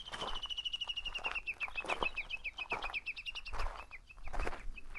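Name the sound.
bird squealing call near Mount Fuji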